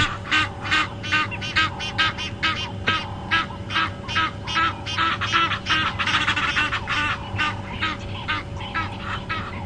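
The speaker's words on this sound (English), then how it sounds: "This is the pair again, and these are Egyptian geese." Egyptian geese honk over and over in a loud, rhythmic run of harsh calls, close by, at a South African game reserve, with steady background hum and no talking.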